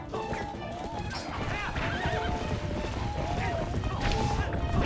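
Horses neigh repeatedly and gallop with clip-clop hoofbeats in The Legend of Zelda: Twilight Princess HD, close and busy, with someone talking over the commotion.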